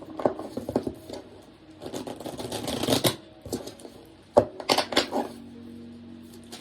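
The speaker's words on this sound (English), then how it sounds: "we're going to shuffle it 3 times" A deck of cards riffled and shuffled three times in quick bursts, each a dense papery flutter followed by soft taps as the deck squares up, close and clear with no talk.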